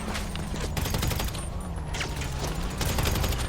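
Video game gunfire in GTA 5 comes as bursts of rapid shots and sharp cracks over a busy game soundscape, dense and fairly loud through the short stretch.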